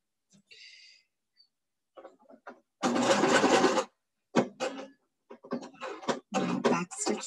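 A home sewing machine runs in bursts while stitching fabric for a cloth mask, with a longer steady run followed by short back-and-forth stitching spurts, all close and moderately loud with no talk.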